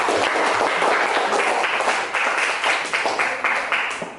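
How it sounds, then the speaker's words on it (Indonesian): Classroom applause for a student group, a loud burst of many hands clapping that gradually thins out into scattered claps toward the end. "Tepuk tangan buat kelompok 5"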